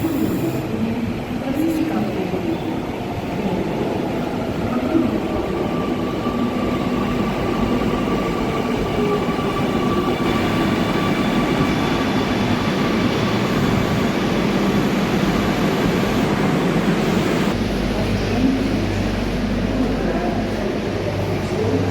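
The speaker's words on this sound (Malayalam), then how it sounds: "we can wait for the train" Train on the railway: a continuous loud rumble and rolling roar with steady wheel noise throughout, faint tonal whines drifting above, and a voice briefly audible underneath.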